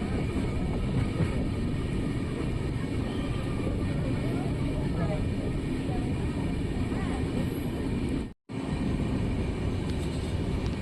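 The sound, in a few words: Basava Express train entering Gauribidanur railway station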